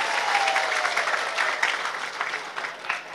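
Steady applause from a crowd at an Islamic religious gathering in Indonesia, a dense patter of many hands clapping that holds for a few seconds.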